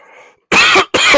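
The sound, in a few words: cough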